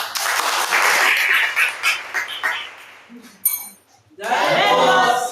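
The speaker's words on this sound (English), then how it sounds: "let's once again give a round of applause for Jaslyn" An audience at a stage event claps in a dense burst that swells and thins over about three seconds, then fades before other voices and noises take over.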